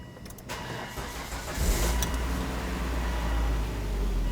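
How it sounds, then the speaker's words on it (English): A 2001-2007 Volvo V70 engine cranks and catches after a quiet moment, then settles into a steady, smooth idle heard close and alone. "And now, let's go ahead and start the engine."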